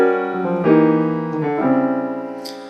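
Jazz piano chords sustained and shifting, the left hand stepping through chromatic passing notes between the harmonies, with a brief high note near the end, played solo and clear.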